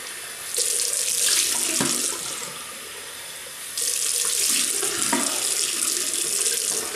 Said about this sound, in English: Right, we'll rinse off.